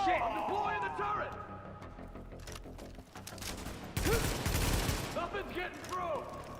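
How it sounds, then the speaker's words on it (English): A deployed automated turret in The Division 2 opens fire amid battle noise, with a dense loud burst of rapid shots midway, preceded and followed by scattered gunfire and voices speaking over it. "I'm deploying the turret."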